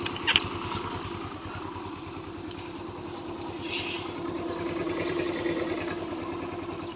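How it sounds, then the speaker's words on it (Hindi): A TVS Jupiter scooter engine idles steadily at low revs with its rear wheel stopped, a constant close putter running throughout with a faint click near the start. "देखिए इंजन की जो साउंड है वो भी बिल्कुल मस्त है"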